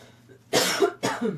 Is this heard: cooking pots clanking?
no